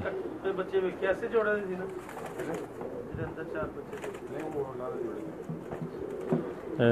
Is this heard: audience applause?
no